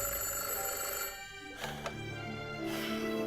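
An indoor telephone bell rings in repeated electronic trills, moderately loud and close, with a short pause between bursts and no speech.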